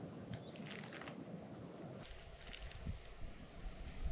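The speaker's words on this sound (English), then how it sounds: "That wind's really picking up." Strong wind at a campsite buffets the microphone in a steady rushing roar that shifts in tone midway, constant and fairly faint with no speech.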